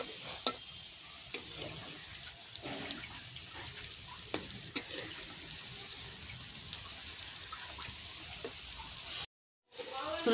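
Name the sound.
cauliflower chops frying in oil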